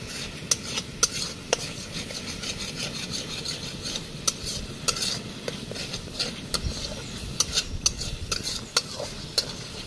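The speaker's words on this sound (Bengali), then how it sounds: "লাল লাল করে পেঁয়াজগুলো একটু ফ্রাই করে নেবো।" Onions with garam masala fry in a pan outdoors beside a jungle canal while a spoon stirs and scrapes with steady rasping strokes and sharp clicks over a bed of sizzle.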